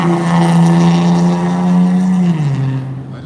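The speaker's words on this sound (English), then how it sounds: "I just don't understand why they want their ugly ass car to be so loud." Loud car engine roars close by with a deep steady drone, then drops in pitch and fades as it drives past and away.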